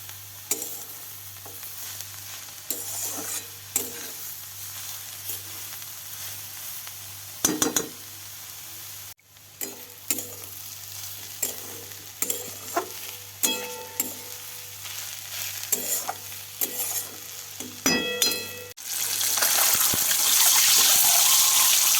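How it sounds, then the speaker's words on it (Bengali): Egg curry spice paste frying in a pan, a continuous sizzle broken by stirring scrapes and clinks, turning into a louder rushing hiss near the end, with no talk. "ডিমের ঝোলের মশলাটা এবার কষে নিচ্ছি।"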